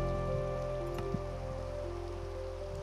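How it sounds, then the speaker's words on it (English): Steady rain falls in the video game Minecraft, a soft continuous hiss with sustained tones running beneath it. "it's just raining"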